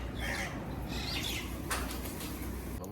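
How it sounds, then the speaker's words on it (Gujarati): Birds arrive at a temple in the morning with a flurry of flapping wings and a few sharp squawks and chirps, heard close over a steady low outdoor rumble. "પક્ષી આવી ગયા છે"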